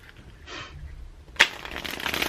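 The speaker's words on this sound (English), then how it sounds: "It riffle shuffles real nice." A deck of New Era Elements tarot cards riffle shuffled: a soft shuffle, then a sharp snap and a quick ripple of cards falling together, close and fairly quiet.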